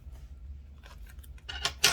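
A few quick, crisp snips of stork scissors cutting fiberglass fabric wrap, getting louder toward the end, with a low background hum.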